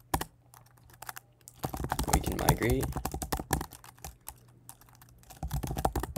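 Keys tapped on a computer keyboard while entering a Rails devise user generator command, quick light clicks in bursts under a voice that speaks over much of it.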